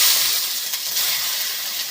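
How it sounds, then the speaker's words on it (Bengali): Tomato pieces go into hot mustard oil in a wok, giving a steady, bright sizzling hiss that stays loud and close for the whole moment with no talking. "চলো প্রথমে তেলে টমেটোটা দিয়ে দেবো"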